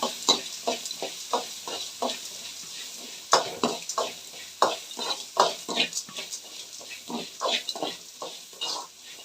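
Onions being fried and stirred in a pan for tondekai rice bath, giving repeated scraping stir strokes over a light sizzle, close and moderately loud with no talking.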